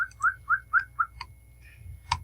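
Chirping from a pet bird indoors: a run of five bright, evenly spaced whistled chirps followed by a softer warble and one final sharp call, fairly close and clear over a low steady room hum.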